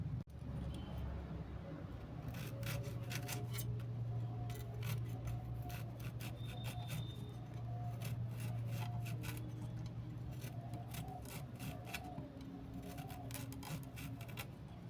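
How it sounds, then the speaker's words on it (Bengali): A knife cuts repeatedly through naga fruit, tomato and potato, making close, scraping strokes at an uneven pace over a steady low background hum. "দেখো, নাগা ফলটা আমি এইভাবে কেটেছি,"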